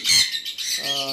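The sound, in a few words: lovebirds squawking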